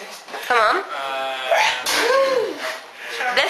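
A person sneezes once during an interview, a short burst with voices talking around it.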